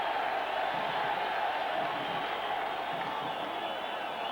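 Broad stadium crowd noise at a Serie A football match, Lecce against Napoli, in 1990: a steady, dense roar of many voices filling the ground without letup, with no distinct cheer bursts standing out.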